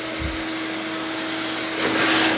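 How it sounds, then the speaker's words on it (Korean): A RIDGID WD1685 wet/dry vacuum switched to blower mode runs as a steady close, loud broadband whoosh with a faint motor whine, swelling louder near the end as the airflow surges. "이제 불어낼 수 있는 송풍기"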